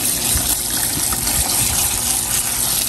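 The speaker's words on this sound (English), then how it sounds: "So I'm just gonna use a garden hose, no real serious pressure, just a little bit of pressure." A garden hose at low pressure sprays water steadily through an aFe dry drop-in air filter from the back side, a constant close gushing hiss with no voices.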